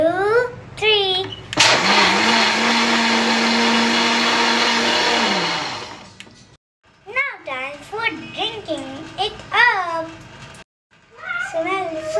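A blender spins a strawberry drink, starting with a loud whir that holds steady for about four seconds before stopping. Someone speaks before and after the whirring.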